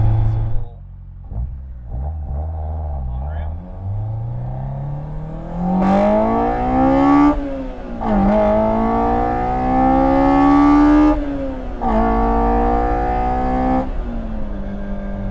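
Honda S2000 intake noise heard from inside the cabin under acceleration, a loud engine drone climbing in pitch through several gear pulls, each rise broken by a short dip at the shift.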